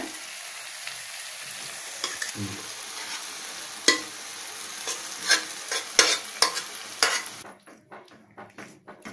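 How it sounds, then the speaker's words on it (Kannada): A spoon stirs cooked ridge gourd and moong dal in a pot, making irregular wet scrapes and sharp metal taps over a faint background hiss, growing busier midway before quieting at the end. "ನೋಡಿ ಸ್ವಲ್ಪ ತಿರುಕೊಡ್ತಾ ಇದ್ದೀನಿ"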